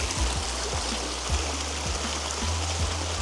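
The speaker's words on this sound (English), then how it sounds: "Lovely little creek that it spans." A small creek flows beneath a century-old bridge on a New Zealand hiking track, a steady broadband rushing wash with faint low knocks, continuous and close, no voices.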